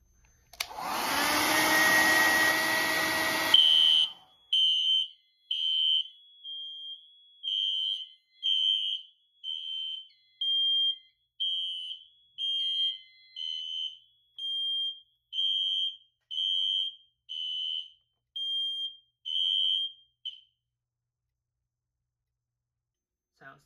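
A Notifier AFC-600 fire alarm system goes into alarm after a heat detector is activated: a broadband roaring burst, likely a hair dryer heating the detector, then a loud high-pitched sounder pulses in a steady on-off pattern for about sixteen seconds before stopping.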